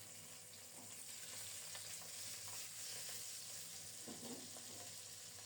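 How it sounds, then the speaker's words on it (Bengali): River bata fish frying in hot oil in a pan, a steady close sizzle with faint stirring clatter, continuous and quiet, no voices. "কি সুন্দর মতো মাছগুলো ভাজা হয়ে গেছে দেখুন।"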